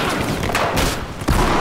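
Gunfire in the multiplayer shooter Battlefield 4: loud, close bursts of rapid shots and booming reports in quick succession.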